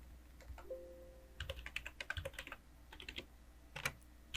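A password being typed on a computer keyboard: quick bursts of close, crisp key clicks and taps in an irregular rhythm, alone in a quiet room.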